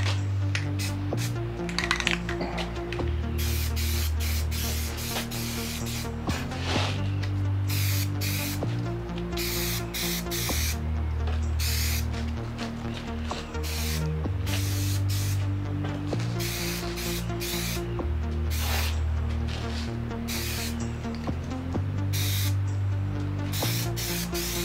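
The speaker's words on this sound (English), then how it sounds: "let's lay down the first coat here now, and you can watch" Plasti Dip aerosol sprays a first coat onto a car wheel in repeated hissing bursts with short gaps, steady and close, over a low droning background hum.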